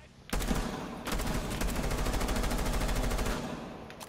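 Rapid automatic gunfire in a video game rattles out in loud, close, sustained bursts of tightly spaced shots, with a brief pause near the start before the firing resumes for several seconds.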